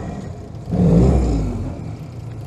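A 1943 Willys MB Jeep engine catches on the starter and swells into a low, rumbling idle that rises briefly and then settles, heard close up and alone.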